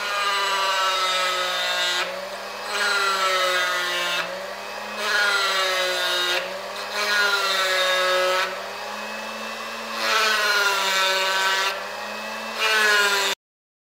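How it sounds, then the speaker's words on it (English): A variable-speed rotary tool motor carves wood. The high whine repeatedly ramps up and eases off in steady cycles, loud and close with no talking. "this is the actual motor for my rotary tool, and there's the carving end of it"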